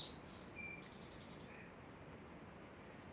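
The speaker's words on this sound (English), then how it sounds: "They've been singing to us." Birds sing outdoors on a quiet morning, giving several short, high chirps and brief whistled phrases over a faint, still background, soft and somewhat distant.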